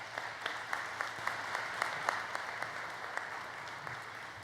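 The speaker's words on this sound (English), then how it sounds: "Let's give them a round of applause." Quiet, steady round of audience applause for the class of 2020 at a college commencement ceremony, soft continuous clapping heard from a distance with a few sharper individual claps.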